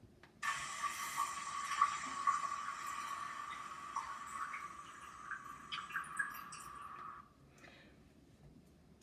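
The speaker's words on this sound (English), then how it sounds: "the water running in my faucet and then dripping at the end." A kitchen faucet runs steadily for several seconds as a moderate hiss, then cuts off and leaves a few faint drips at the end, with no talking.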